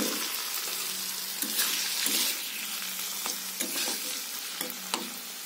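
Chopped onion sizzles steadily in a hot pan, with a constant hiss and light crackle and a few soft clinks of stirring, with no voices.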